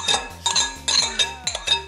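Repeated metallic clinks and scrapes as ingredients are transferred into a pot, several sharp knocks in an irregular rhythm, close and fairly loud.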